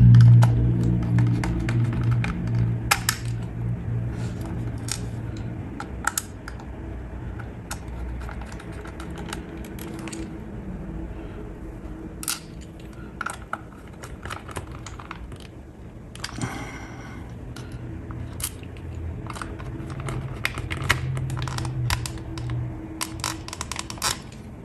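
Five small screws driven into a PS3 controller shell, with a long run of tiny irregular clicks and ticks from the screwdriver and plastic, close up, broken by a few louder taps and brief pauses.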